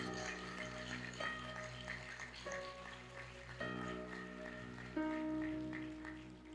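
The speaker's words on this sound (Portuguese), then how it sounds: "Dá para aplaudir Jesus com isso aí?" Church congregation applauding during a sermon, a soft, steady patter of many hands heard at a distance with sustained musical tones and faint room ambience underneath.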